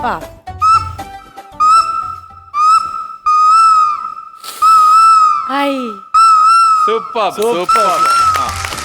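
A flute plays a series of short rising whistled phrases mimicking a cuckoo's call, repeated several times with brief gaps, loud and close.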